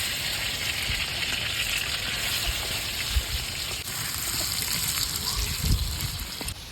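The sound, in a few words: meat frying in a pan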